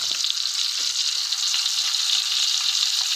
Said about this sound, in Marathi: मांदा आता स्वतःला त्रास करून घ्यायला लागले बघा तडतड तडतड तड करून